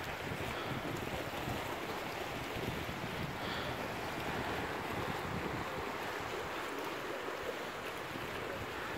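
Sea waves breaking on a rocky shore at Malwan, Sindhudurg, a continuous broad wash of surf with wind buffeting the microphone, fairly faint and steady with no talking.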